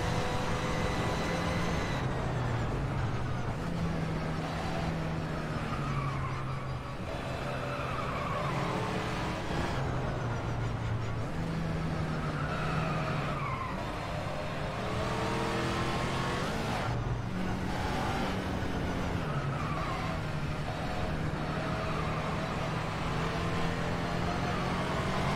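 Race car engine from the rFactor 2 racing game on the Brno circuit, revving steadily through gear changes with rising and falling pitch sweeps, loud and continuous with no talk.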